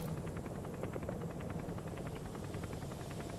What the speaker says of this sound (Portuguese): Olha lá, que deu helicóptero.